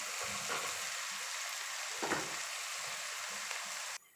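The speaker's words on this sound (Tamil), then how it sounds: "வெங்காயத்தை நல்லா பொன்னிறமாக வதக்கிக்கலாம்" Onions and green chillies sautéing in hot oil, a continuous sizzle with occasional scraping stirs of a spatula, close and steady before cutting off abruptly near the end.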